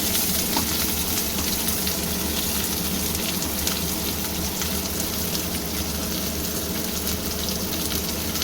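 Steady, loud, close sizzling of onion dropped into hot oil in a pan for an aloo potol egg curry, a continuous crackling hiss with no talking.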